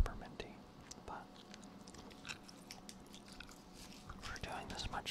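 Orbitz peppermint gum is chewed close to the microphone in soft, wet, irregular smacks and crunches, quiet and intimate, with faint whispering alongside.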